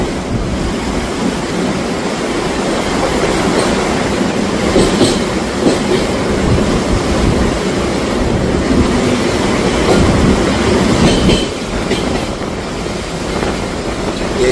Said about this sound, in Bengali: 13125 সাইরাং এক্সপ্রেস এখন ফারাক্কা ব্যারেজের ওপর দিয়ে যাচ্ছে